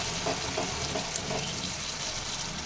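Water hits a pan of cooked-down spice masala that has released its oil, giving a bright, close sizzle and hiss that holds steady for a few seconds.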